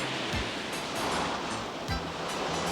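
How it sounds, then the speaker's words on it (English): Water left running and flooding a suburban backyard, a steady broadband rush like heavy surf with occasional low thuds, continuous and fairly loud throughout. "I must have forgot to turn off the water."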